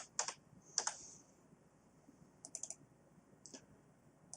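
Quick bursts of typing on a computer keyboard, a few clustered clicks separated by short pauses, fairly quiet and close with no talking.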